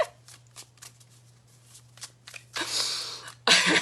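Tarot cards being shuffled in two bursts, a soft riffling rush that builds and then a sharper, louder flurry at the end, following scattered light taps and handling noises over a faint steady hum.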